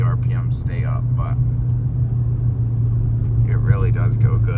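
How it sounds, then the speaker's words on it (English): A car's engine drones steadily and low while the driver barely presses the gas, easing onto the throttle. The hum stays close and even throughout, with someone talking over it at the start and again near the end. "that's just barely touching the gas, just coming onto it a little bit"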